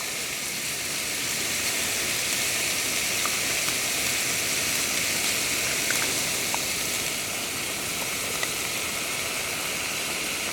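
Steak sizzles in a pan as sweet chilli sauce is poured in, cooking outdoors at a winter wild camp on Kinder Scout. A steady, dense hiss holds for the whole stretch, close and even, with no one talking.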